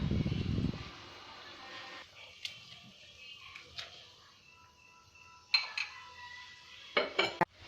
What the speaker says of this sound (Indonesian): Masukkan potongan nanas, lalu diaduk rata.